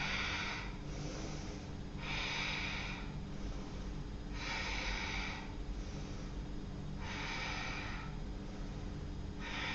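Slow, steady breathing through a yoga forward fold in an Ashtanga vinyasa session, with repeated long breaths at an even pace against a constant low hum.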